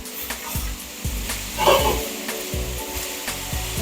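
Mixed vegetables sizzle on a grill while they are pushed to the side, giving a soft, steady hiss broken by light knocks and scrapes from the tool.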